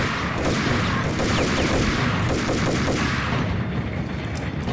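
Dense, rapid gunfire from the Max Payne video game, a loud and continuous barrage of overlapping shots running through the whole stretch with no pause.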